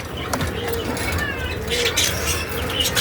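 Breeding parakeets in an aviary: soft, high chirps and short warbling calls sound through a steady low background hum, fairly close and continuous.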